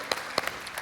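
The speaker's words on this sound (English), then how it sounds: "we can clap." Small audience at a Sukkot scripture teaching session giving a few scattered, brief claps, faint and sparse rather than sustained applause.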